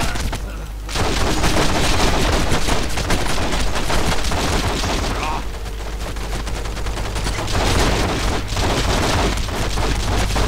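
Gunfire in The Matrix: Path of Neo video game, a dense, loud, continuous barrage of automatic shots and booming impacts that barely lets up across the whole stretch.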